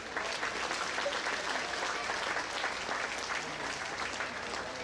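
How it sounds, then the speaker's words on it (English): Sustained applause from a crowd at a state fair FFA livestock awards, steady clapping throughout without a break. "Let's give all these exhibitors a round of applause for their hard work."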